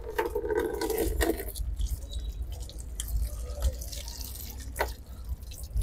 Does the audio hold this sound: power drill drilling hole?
no